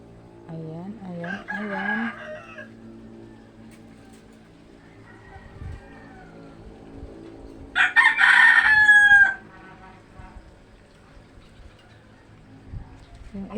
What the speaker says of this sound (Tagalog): Yung mga manok niya.